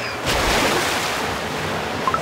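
Sea waves wash in a Cookie Run Kingdom game scene, a steady broadband surf rushing continuously, fairly close, with a few brief higher tones near the end and no talk.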